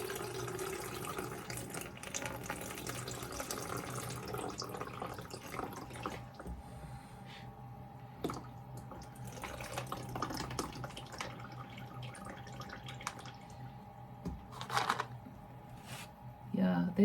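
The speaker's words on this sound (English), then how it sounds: "I'm just gonna pour that off." Water poured off from a container of coffee trimmings while growing coffee in a cold-climate grow room, trickling and splashing in uneven bursts with small knocks and handling clatter, fairly faint and close.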